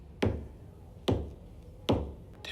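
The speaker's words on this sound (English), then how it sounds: "The 3 knocks, yep." Three sharp knocks on a door in a TV crime drama, evenly spaced about a second apart, each a crisp thud with a short ring and nothing else around them.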